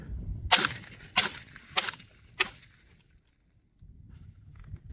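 Fostech Origin 12 short-barreled shotgun fitted with a SilencerCO Salvo suppressor fires four sharp suppressed reports at roughly even intervals, followed by quiet handling noise.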